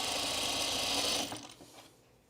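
A serger sewing machine stitching stretched fabric, a close, loud, rapid mechanical whirr that runs steadily for about a second, then slows and fades out.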